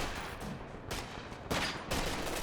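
Rifle grenades firing in Company of Heroes 2, a few heavy bursts of launches and blasts over a dense wash of battle noise, fairly loud.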